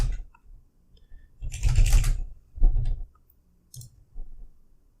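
Keys on a computer keyboard are tapped in two short bursts of clicking, close and fairly crisp, separated by quiet pauses with a few stray keystrokes afterward.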